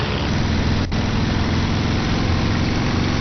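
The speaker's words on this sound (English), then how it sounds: "Just let the engine kind of warm up and rev up." A WWII aircraft engine in the flight sim IL-2 Cliffs of Dover warms up and revs, a loud continuous rumbling drone, steady throughout with one brief dip.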